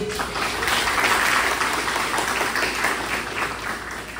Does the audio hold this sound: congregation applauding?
yes